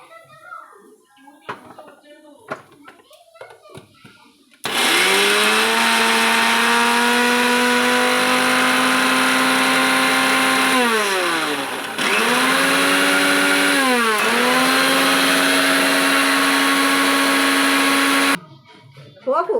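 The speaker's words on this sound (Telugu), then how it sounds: "ఇగో మిక్సీ పట్టినాం" A mixer grinder grinding pickle whirs loudly for about fourteen seconds, its motor pitch dipping twice as it labors, with people talking briefly before and after.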